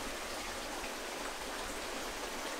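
River water flows beside a sandy beach in a gorge, a faint, steady rushing hiss with no talking.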